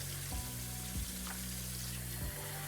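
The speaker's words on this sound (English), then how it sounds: "We're just washing the rice, we're agitating it, we're keeping it moving." Rice washed in a bowl of water and kept moving by hand while making coriander rice, giving a steady wet swishing with a few sharp knocks spaced about a second apart, close and moderately loud.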